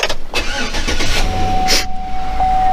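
A car engine cranks and catches during a front brake pad job, then settles into a steady idle, close and fairly loud with no talking.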